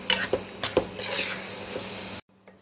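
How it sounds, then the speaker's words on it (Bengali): Spice paste of turmeric, chili, coriander and cumin with sliced onion is sautéed in a pan, a few utensil clinks and scrapes over a quiet sizzle before it cuts to near silence. "মশলাটা কষানো হচ্ছে"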